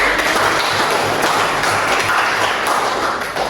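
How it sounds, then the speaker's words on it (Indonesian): Classroom applause for a student presenter, a dense, steady wash of clapping from a group of students lasting the whole moment, loud and close, tapering slightly at the end. "tepuk tangan untuk Mas Fahri"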